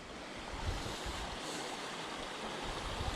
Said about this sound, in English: Creek's running nice and high today.